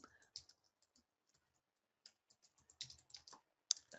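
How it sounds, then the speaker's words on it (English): Sparse, quiet clicks of a computer keyboard as entries are typed into QuickBooks Online, in short bursts of keystrokes separated by pauses, close to the microphone. "just typing that in"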